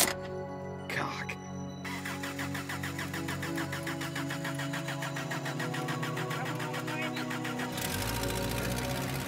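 A car engine cranks and catches, settling into a steady mid-pitched idle that runs close and loud throughout, with people talking over it.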